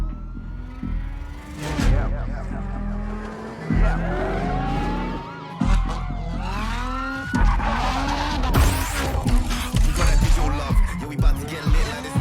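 Car drifting in a Need for Speed game trailer, with long screeching tire skids that swoop up and down in pitch over a roaring engine, repeating in several loud passes alongside music and faint sirens.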